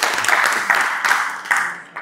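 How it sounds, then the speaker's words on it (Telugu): Brief round of applause from a small group at a devotional bhajan gathering, rewarding a child's correct quiz answer, with dense clapping lasting about two seconds. "కొట్టున్నారు చప్పట్లు"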